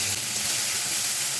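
Spice paste dropped into hot oil with fried whole cumin, giving a steady, loud, close sizzle that fills the whole moment.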